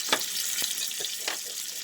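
Short crackling bursts of lamb chops sizzling in a frying pan, several quick pops spread across a couple of seconds at moderate volume.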